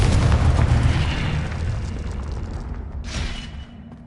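A Confringo spell explodes in a PS4 video game, a loud booming blast that rumbles and slowly fades, followed by a fainter whooshing burst near the end.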